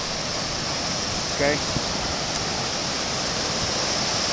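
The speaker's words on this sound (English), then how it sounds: "there's a lot of volume, a lot of water coming down through this little area right in here." Heavy, aerated whitewater of the upper Rogue River surging through the narrow Natural Bridge channel, a steady, loud broadband roar throughout, with a brief spoken word partway through.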